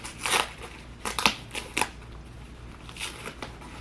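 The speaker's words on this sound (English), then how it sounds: "how you would take this off is you just peel the tabs back" Tabs of a winged sanitary pad peeled back, heard as several close, crisp crinkling and tearing rustles in short bursts, then quieter handling, with no talking.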